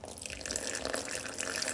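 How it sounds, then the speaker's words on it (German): Water pours steadily into a container holding yeast and sugar, a continuous splashing trickle, close and moderately loud, with no voices. "Und da rein kommt jetzt Wasser."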